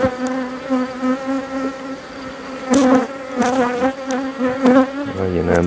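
A honeybee colony in need of feeding buzzes close up during a hive inspection, with individual bees droning in wavering, rising and falling tones that pulse in and out.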